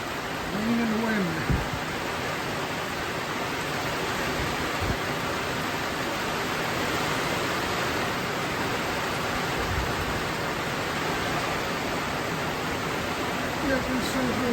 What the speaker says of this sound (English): Rain and wind.